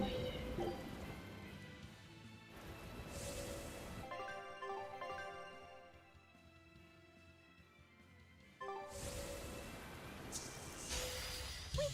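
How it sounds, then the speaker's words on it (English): Steady rain in the video game Tales of Berseria patters across the whole stretch, briefly thinning in the middle before returning fuller, with no voices over it. "It's raining."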